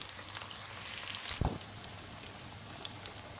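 Small onions sauté quietly in a pan for a tamarind curry, giving a faint, steady crackling sizzle with one brief clatter partway through and no talking.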